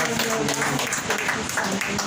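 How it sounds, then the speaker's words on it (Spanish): A congregation at an evangelistic church service breaks into strong, continuous applause, with voices calling out and mixing into the clapping throughout. "Dele un fuerte aplauso al Rey de Reyes y Señor de Señores"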